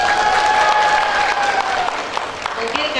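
Graduation ceremony audience at a health polytechnic clapping on cue, a fairly loud burst of applause that tapers off, with voices and a tonal whistle or feedback mixed in.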